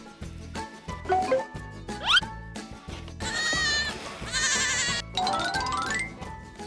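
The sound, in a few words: goats bleating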